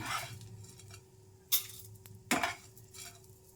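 Spatula scraping roasted ingredients for Andhra-style radish chutney out of a pan onto a plate: a faint steady hiss, then two sharp metallic scrapes and clatters close by.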